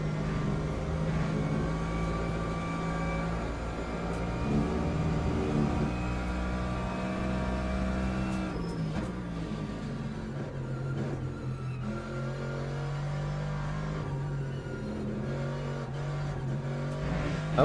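Mercedes-AMG race car engine in a racing video game at Spa-Francorchamps, a steady droning whine holding a constant pitch, with a brief shift in tone midway, loud and continuous without voices.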